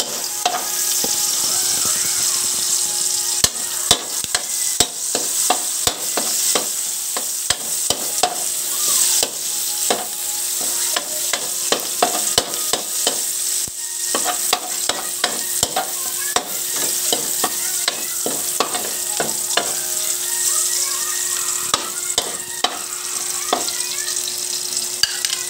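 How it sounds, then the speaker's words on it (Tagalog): Garlic and onion sautéing in a pan at home, a loud, steady sizzle and hiss throughout, broken by frequent sharp pops and the clicks of stirring. "Gisa lang yung bawang sibuyas."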